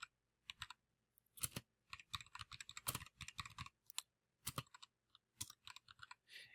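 Keys clacking on a computer keyboard as a page title is typed, irregular bursts of close, crisp taps with short pauses between words, no voices.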